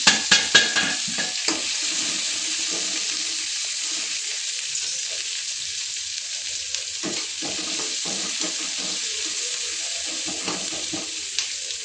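Sliced onions sauté in a small amount of oil over low heat, giving a soft, continuous sizzle broken by a few sharper stirring scrapes near the start and occasional light clinks.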